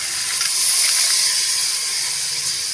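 Washed karamani beans hit a hot pan with fried chilli powder, giving a steady close hiss and sizzle that holds evenly throughout, with no talking.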